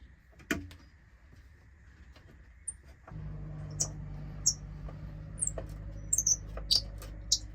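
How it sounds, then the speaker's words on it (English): Faint, scattered bird chirps, short high tweets repeating irregularly over a low steady rumble and some clattering noise. "Sounds like a bird chirping."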